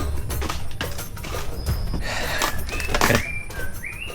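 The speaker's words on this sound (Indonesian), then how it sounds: "saya disambut dengan indahnya kicauan burung." Several short, thin bird chirps and rising whistled notes ring out over a busy outdoor background with rustling and scattered thumps, moderately close, in a gorge passage on Java's south coast.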